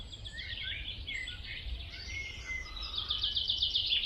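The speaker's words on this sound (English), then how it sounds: "Can you hear the birds?" Several birds sing at a distance with varied chirps and warbles, ending in a quick repeated trill, over a soft outdoor background.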